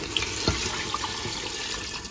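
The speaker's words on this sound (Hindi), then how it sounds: "अब हम इसमें पानी ऐड करेंगे।" Water pours steadily into a cooking pot of potatoes and meat (aloo gosht), a continuous, fairly loud rushing splash with faint drips, heard alone without talk.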